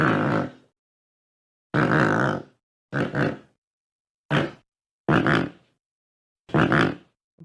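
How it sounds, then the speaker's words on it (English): Great white pelican calling in a run of low, rough grunting bursts, six separate calls of varying length with silent gaps between, close and loud with no other sounds. "That's the sound of the great white pelican"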